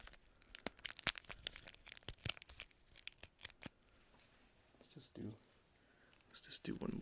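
A bandage wrapper is torn open close up, giving a quick run of sharp ripping and crinkling snaps followed by softer rustling, with quiet whispered speech in the background.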